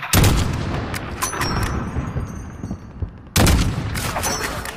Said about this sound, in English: I hear a lot of gunfire and I don't like that.